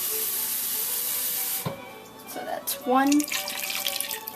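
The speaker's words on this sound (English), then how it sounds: "I'm going to add 2 more cups of actual water" Water poured into a pot of caramelized Vietnamese meatballs, a bright rushing splash for about a second and a half that then stops, followed by a person talking briefly.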